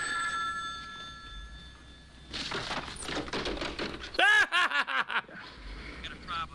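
A telephone rings with repeated electronic bell tones at the start, mid-loud, before voices and laughter take over the rest of the moment.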